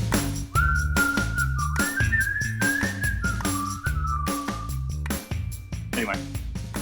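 A person whistles a wavering melodic line in short phrases, close and clear, with another voice speaking underneath at times.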